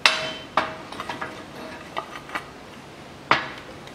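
Metal-on-metal clanks from a press pushing an upper front ball joint out of a Land Rover Discovery 3 suspension arm with a spacer, three sharp loud knocks and a few lighter taps, close and with no talking.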